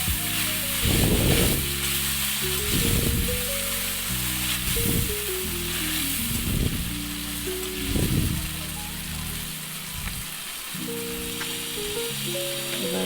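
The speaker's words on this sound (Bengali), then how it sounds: "গরম মশলাগুলো তেলের মধ্যে ভেজে নিচ্ছি, দিয়ে একটু নেড়ে নিলাম" Whole garam masala spices fry in hot oil for a Bengali vegetarian thali, giving a steady close sizzle with bursts of crackle and stirring rattles throughout, no voices.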